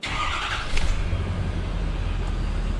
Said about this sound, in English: after I tune a truck is I just turn it over and make sure it starts